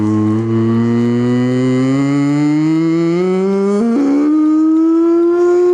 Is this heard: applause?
no